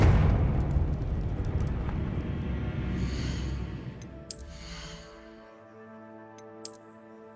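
Confringo spell explosion in a fantasy game, a loud rumbling blast that decays over a few seconds, followed by sparkly magical chimes and tonal ringing.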